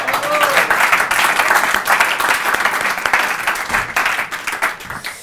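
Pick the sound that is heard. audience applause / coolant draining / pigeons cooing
audience applause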